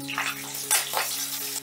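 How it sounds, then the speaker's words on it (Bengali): Bay leaves and green chillies frying in hot oil while being stirred, a steady close sizzle with a brief louder crackle partway through, no voices. "তেজপাতার কাঁচা লঙ্কাটা একটু নাড়াচাড়া করে নেব।"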